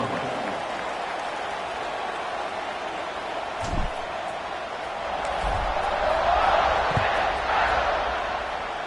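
Stadium crowd roaring at a kickoff in College Football 26, a broad, sustained murmur with occasional thumps, swelling slightly midway, under a commentator's voice.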